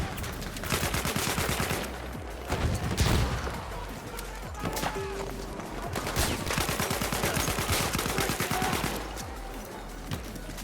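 Rapid machine-gun fire rattles through a Battlefield 1 battle in long, dense bursts, loud and close, with short pauses between volleys and scattered louder impacts.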